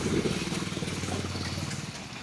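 A motorcycle engine runs nearby with a steady, throbbing idle and a low rumble that holds for the full stretch, with no talk over it.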